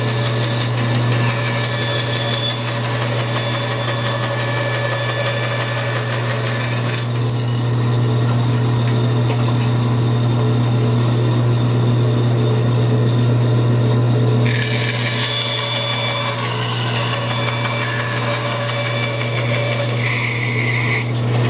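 Power saw blade beveling the stem of a wooden canvas-covered canoe, a continuous loud droning whine with a steady hum underneath and a shift in tone partway through as the wood passes the blade, no talking.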